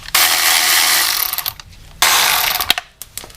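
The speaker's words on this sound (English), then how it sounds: "We're going to take off these two nuts. They should be a size 10 as well." A ratchet wrench loosens size 10 nuts on a gas generator being converted to propane, its rapid clicking bursts loud and close, pausing briefly between runs.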